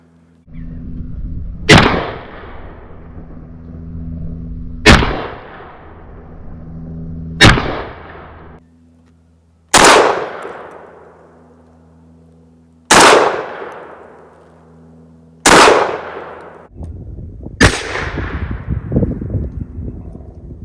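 A Mossberg 930 semi-auto 12 gauge shotgun fired until empty: seven loud, sharp blasts spaced about two to three seconds apart, each trailing off in a ringing echo.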